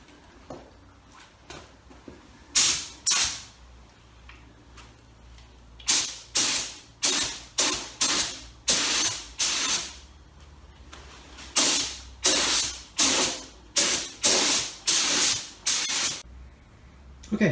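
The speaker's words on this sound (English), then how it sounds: "But I'm going to try just with the gun. I'm all set up here. So we're going to get on, shoot clear on these 4 wheels," Spray gun applying 2K clear coat to four alloy wheels, a series of sharp hissing bursts, each a second or less, in irregular clusters separated by short pauses, close and fairly loud with no talk.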